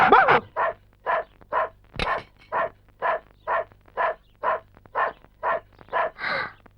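A chained dog barks steadily, about fifteen evenly spaced barks close by with a low hum underneath, one sharp thump near the start.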